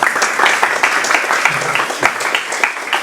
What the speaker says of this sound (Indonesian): Kita berikan aplaus.